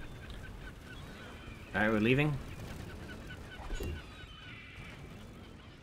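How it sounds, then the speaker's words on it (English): Gulls in a video game let out one loud, wavering honking call near the start, then a fainter cry a bit later, over game background sound with a player talking. "We gotta do something to get rid of those gulls."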